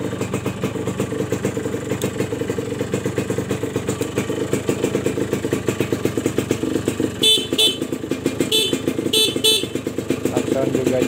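Horn of a Suzuki Satria 120R two-stroke motorcycle, a few short honks near the end over the bike's steady engine hum, close by.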